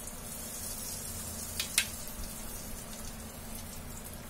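Dried whole red chilies and asafoetida hit hot oil for a raw mango curry, giving a soft, steady sizzle with a couple of sharp pops, fairly faint and without talk.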